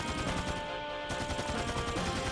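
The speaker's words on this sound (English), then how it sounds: "I must have hit it when it was going to blow up, and that triggers the explosion" Rapid rattling blasts and crackling from combat in the video game Dark Cloud 2, a dense, loud burst of repeated impacts like gunfire or an explosion, continuous throughout.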